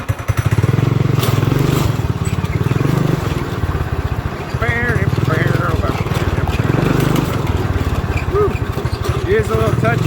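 A Manco Dingo go-kart engine runs loud and close during a drive, its rough, throbbing putter steady throughout, rising and easing as the throttle changes, with voices talking over it.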